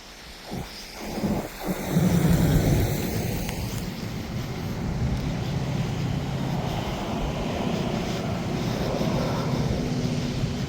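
Steady wind roaring and buffeting against the microphone, with a brief rumbling gust building early on before settling into constant blustery noise.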